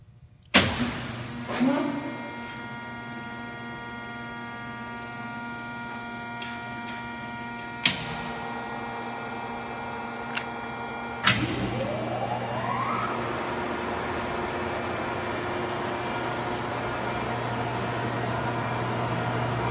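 A Landis 24 by 72 inch Type LCHH plain cylindrical grinder starts and runs a cycle, with a sharp start-up clunk, then a steady motor hum and whine, further clicks and a rising tone as the motion engages.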